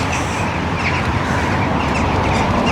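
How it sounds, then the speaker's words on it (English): A loud, dense chorus of crows and rooks cawing together, a continuous noisy clamour of many birds close by. "Crows and rooks"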